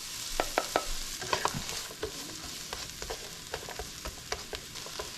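Diced onion sizzles in a pan while being stirred, a soft steady fry punctuated by repeated close scraping and clicking of a utensil.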